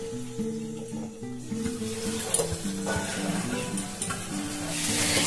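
Chhana mixture for kheer kadam cooks in a kadai with a soft continuous sizzle and occasional utensil scrapes; a low tonal hum sits underneath, fairly close and steady throughout.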